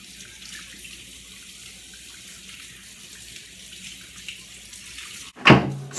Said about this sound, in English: now I'm just gonna start washing them